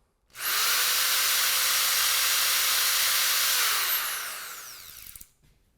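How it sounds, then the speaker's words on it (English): Manpa EZ Sander brush sanding sleeve on a keyless chuck and extension shaft spins up with a loud, steady high-pitched whirring grind for about four seconds, then winds down and stops. "Now we're ready to sand."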